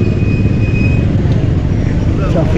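Road traffic with motorcycles and cars in Angat, Bulacan, Philippines, heard as a continuous close engine rumble and road noise with voices talking over it.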